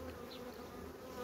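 Honeybees buzz at the hive during queen rearing, a dense, steady hum of many insects close by, with no voices over it.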